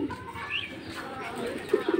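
Pigeons on a small farm of about eight breeds, including king, ghiya, chandan, sirazi and local birds, give soft low coos, with a couple of louder coos near the end over faint background noise.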